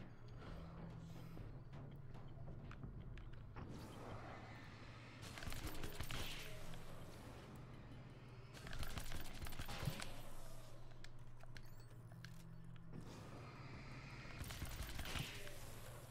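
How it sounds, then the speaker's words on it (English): A nail gun in Alan Wake's American Nightmare fires in three separate bursts of rapid clattering shots, faint and spaced apart over a low steady hum. "This nail gun is amazing."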